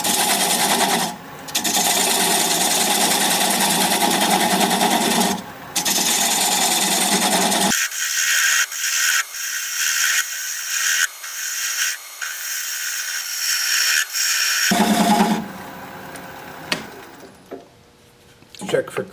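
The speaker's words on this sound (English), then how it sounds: "I'm going to grab a 3/8 inch bowl gouge and commence to removing that tenon." A bowl turns on a wood lathe spun to about 600 RPM while a 3/8 inch bowl gouge cuts away the tenon, giving steady close scraping and rasping. The cutting pauses briefly, someone talks, and the clip ends in quieter handling noise.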